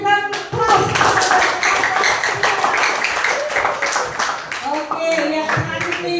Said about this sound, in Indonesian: Mari berikan aplaus.